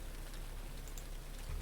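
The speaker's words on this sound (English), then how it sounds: "Is it raining outside?" Steady rain hiss in a horror video game set around a cemetery, a continuous even wash of drops with a brief low thump near the end.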